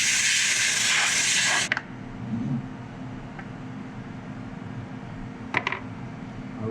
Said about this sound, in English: I just used an air blower that I modified